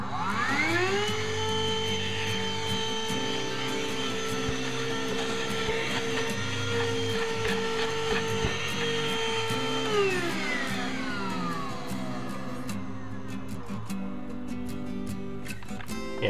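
A Black and Decker BDH2000PL 20-volt cordless handheld vacuum motor whines steadily, its pitch rising at startup and dropping as it winds down near the end, loud and close.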